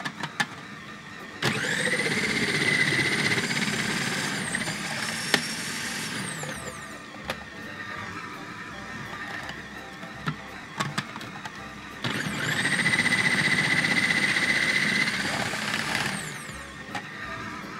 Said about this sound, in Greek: Και τρίβω και τα μήλα.